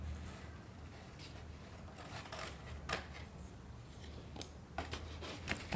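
Scissors cut through paper along a drawn line, a faint run of soft snips and rasping slides that are quiet and close, with no speech.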